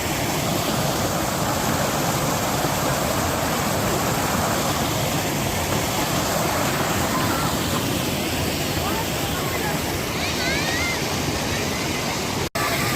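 The Chauras waterfall in Himachal rushes loud and unbroken, a dense roar of falling water with voices faintly beneath it.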